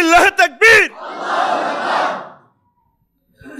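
At a Bangla Islamic waz sermon, a preacher's loud call is answered by a big crowd roaring the takbir in unison, a broad swelling shout lasting over a second before fading to silence, then speech resumes.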